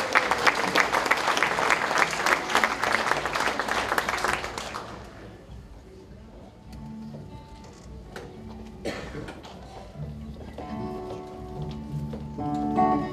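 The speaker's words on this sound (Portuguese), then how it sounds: "uma salva de palmas para os novos artistas deste quadro que se segue" Audience applause at a fado night during a church festival in Turlock, California, loud and dense for about five seconds, then fading to scattered claps with quieter room sound and a few murmurs.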